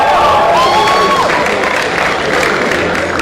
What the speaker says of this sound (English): And clap for yourselves.